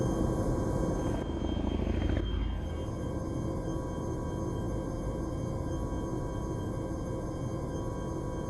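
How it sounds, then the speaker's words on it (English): A helicopter in the Arma 3 video game hovers during sling loading, a steady loud rotor and engine drone that carries on unbroken, with a brief swooshing sweep near the start. "The helicopter is not perfectly aligned"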